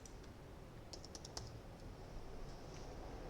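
Quiet keystrokes on a computer keyboard tap in short irregular bursts, a small flurry of clicks near the start then sparse taps, faint over a low background hum.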